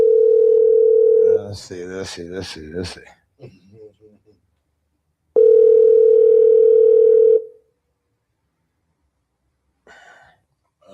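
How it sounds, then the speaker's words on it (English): A phone rings out on a call to someone's mother, two long steady ringback tones separated by a stretch of talking, with a brief murmur of voices near the end. "I gotta let my mom's phone ring a lot."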